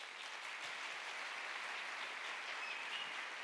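A conference audience at a climate communication event claps to welcome a guest speaker onto the stage, a continuous, even patter of crowd applause heard alone, somewhat distant and moderately quiet.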